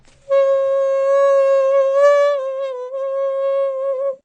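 An Armenian duduk of apricot wood with a large reed plays a single sustained, reedy note close up, wavering slightly in pitch before dipping and returning, with nothing else audible.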